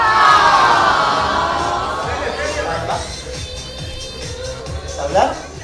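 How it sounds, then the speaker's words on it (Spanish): Children at a kids' cosplay contest let out a loud, high shared scream that fades over a couple of seconds, followed by crowd murmur and a second brief shriek near the end. "¿Quieres escuchar un grito de ternura?"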